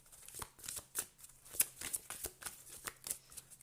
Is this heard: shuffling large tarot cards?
yes